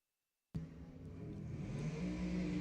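A dragster launches at a drag strip event, bursting in abruptly after silence and then holding a steady, building engine roar, heard from a distance.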